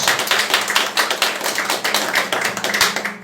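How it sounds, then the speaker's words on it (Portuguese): Church congregation applauding in praise to Jesus, a dense run of many hands clapping loudly and steadily, close and continuous with sharp individual claps standing out. "Dê uma salva de palmas bem forte para Jesus."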